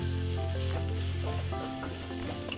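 Onion and garlic sautéing in a pan while a Filipino chicken afritada is cooked: a steady close sizzle with occasional stirring clinks and scrapes, no voices.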